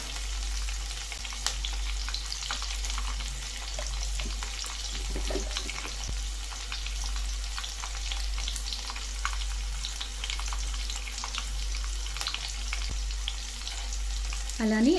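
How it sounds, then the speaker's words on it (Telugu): Spices and ingredients frying in a pan with turmeric and salt being added, a steady close sizzle with occasional stirring scrapes and crackles running throughout, no voices. "ఇవి ఫ్రై అవుతున్నప్పుడే దీంట్లో పసుపు అలానే సాల్ట్ వేసేస్తున్నాము."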